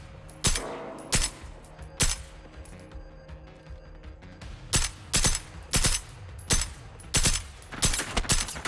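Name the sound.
gunfire exchange in video game Generation Zero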